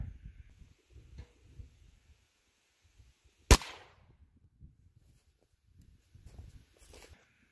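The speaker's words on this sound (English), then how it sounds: "let me hit it with the rifle real quick in between those two" A single sharp .22LR rifle shot fired with Norma ammunition into ballistic gel, one loud crack in a quiet setting, with faint shuffling and handling noises before and after.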